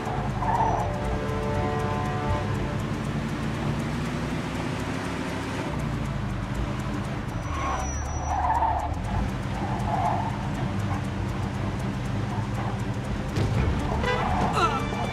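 A car in the Mafia 2 video game skids and hits a pedestrian: a loud engine drone, a squealing skid midway and a low thud, with game vehicle noise throughout.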